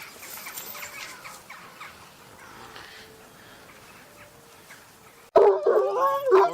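Faint background noise gives way to sudden loud, close barking and yapping from Kangal shepherd dogs guarding sheep in the Erzurum mountains in the final second.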